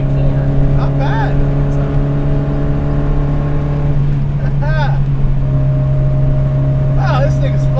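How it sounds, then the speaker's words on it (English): A modified Datsun 510 wagon with an old-school inline-four pulls uphill, a loud steady engine drone holding firm throughout, with brief squeaky tonal chirps from inside the car. "the motor makes really pretty good torque, despite being a old school inline four"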